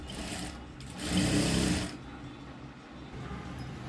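A sewing machine stitches a folded blouse edge in short bursts, its close mechanical whir rising briefly to full speed before easing back to a soft running hum.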